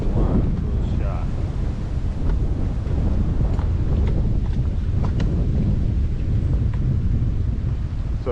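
Strong, steady wind roars across an open lake during a crappie fishing trip from a boat over shallow water, loud and continuous with low rumbling buffets against the microphone throughout.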